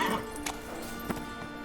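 Roach, Geralt's horse in The Witcher 3, gallops with quick hoofbeats and a brief whinny over game music, the sound steady and fairly close.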